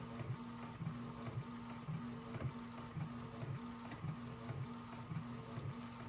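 A printer printing papercraft parts hums steadily while its print head shuttles back and forth in a regular rhythm, quiet and close with no voices.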